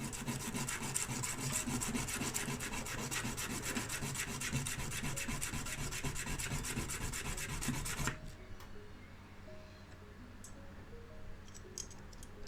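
Nail files rasp steadily against a car body part on a 1957 Austin Healey 100 under restoration, a dense continuous scraping for about eight seconds that then stops, leaving a quiet room with faint small knocks.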